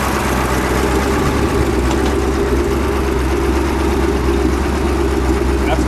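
A 1970 Plymouth Cuda with a 426 Hemi V8 idles loud and close, a steady deep rumble with a slow, lumpy pulse that continues throughout.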